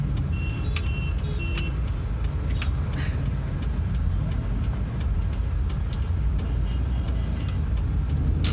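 A first-generation Hyundai i10 is driven along, its small engine and road noise forming a steady low rumble, with light rattles and ticks from the cabin scattered over the top.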